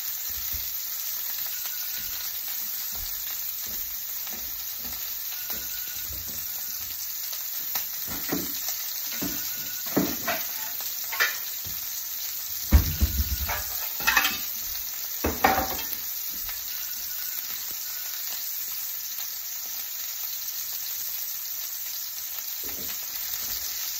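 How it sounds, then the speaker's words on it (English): Steaks fry in a pan with a steady sizzle across the clip, while scattered bright clatters and scrapes from handling the pan or utensils are heard nearby. Nobody speaks. "now I'm making these steaks"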